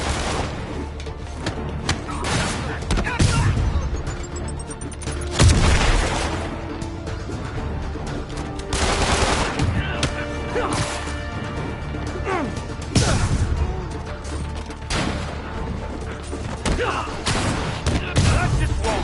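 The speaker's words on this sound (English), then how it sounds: "Open fire!" Video game gunfire erupts in repeated loud bursts and crashes across the scene, with heavy impacts and booms mixed in, while a player talks over the action.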